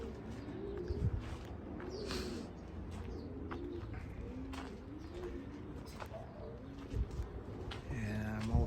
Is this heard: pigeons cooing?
yes